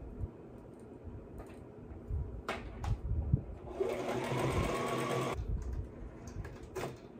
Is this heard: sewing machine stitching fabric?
yes